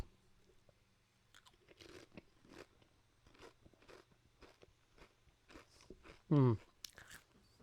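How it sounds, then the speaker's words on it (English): A Lay's Sweet and Spicy Honey potato chip gives one loud, close crunch as it is bitten, following faint chewing and mouth noises with long quiet gaps. "Let's put this in my mouth. Let's see how this tastes on my first chomp."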